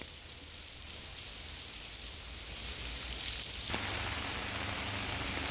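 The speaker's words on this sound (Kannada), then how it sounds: "ಭಾಗಮಂಡಲ, ತಲಕಾವೇರಿ ಸೇರಿದಂತೆ ಹಲವು ಪ್ರದೇಶಗಳಲ್ಲಿ ಧಾರಾಕಾರ ಮಳೆಯಾಗ್ತಾ ಇದೆ" Heavy monsoon downpour in the Bhagamandala and Talakaveri area, a dense steady hiss of rain that thickens and grows louder partway through, with no voices.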